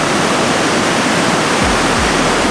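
Loud, steady roar of rushing creek rapids fills the whole stretch, broadband white water with no voices over it.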